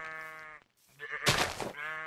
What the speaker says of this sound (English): Go away, sheep.